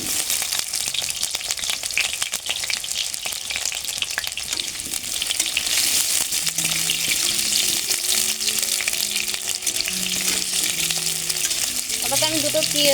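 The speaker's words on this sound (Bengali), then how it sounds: "এবার আলুগুলো ভেজে নেব।" Potatoes frying in oil in a hot wok, a loud continuous sizzle holding steady throughout with faint background tones and occasional stirring, close up and without any speech.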